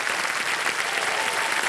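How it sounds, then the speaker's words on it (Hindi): Studio audience on a televised quiz show bursts into dense, loud, sustained applause that fills the room evenly without a break. "एक बार जोरदार तालियां बज जाएं इनके लिए।"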